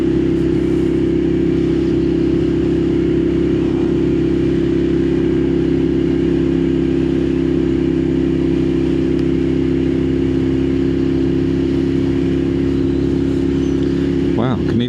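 A Moto Guzzi Griso motorcycle engine hums in a steady, deep drone while being ridden, loud and constant with wind noise, as the rider talks over it.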